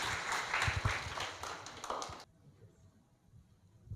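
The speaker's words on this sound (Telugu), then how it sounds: "clap for your self" An audience claps together at a spiritual gathering, a fairly loud burst of hand claps lasting about two seconds that stops abruptly, leaving a quiet room.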